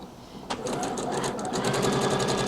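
A sewing machine stitches a dress seam with a one centimetre seam allowance, a loud, steady, rapid run of needle strokes that starts abruptly and continues close up without talk.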